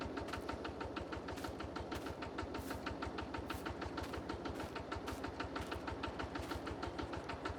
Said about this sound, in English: Love the sound of the micro tractor.